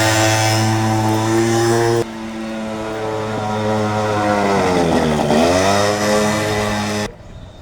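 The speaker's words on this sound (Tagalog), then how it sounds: "Teda na, ang motor ni Ghost Rider yan." A motorcycle engine revs nearby, loud and buzzing with a high, sustained drone that dips and climbs again in pitch as the throttle is worked, with no speech over it.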